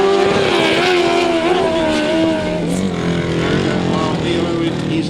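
1000cc sidecar motorcycles race at a grasstrack meeting, engines screaming loud and close with rising and falling pitch as they pass and change throttle, while a commentator talks over the racket.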